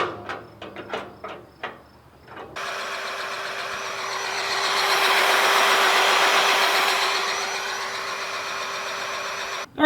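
A cheap Chinese-made wood chipper engine is started after a few short cranking bursts, then catches and runs loud and steady. Its pitch swells a little in the middle of the run and then holds at an even drone.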